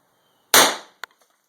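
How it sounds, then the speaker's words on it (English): A single sharp .22LR gunshot, a CCI Stinger round fired into a 2x4 board from about 4.5 feet, cracks loudly and decays quickly, followed by a short knock and faint ticks. "we're going to see if that Stinger will go through a 2x4"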